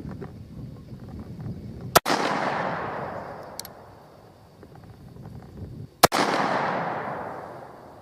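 A derringer pistol fires two sharp, loud gunshots several seconds apart outdoors, each followed by a long rolling echo that fades away.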